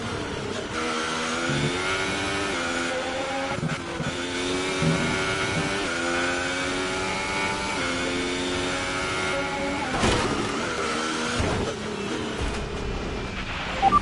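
An F1 race car engine in the F1 2018 video game drones and whines loudly and continuously, its pitch climbing and dropping with gear changes and throttle over fourteen seconds, with no speech.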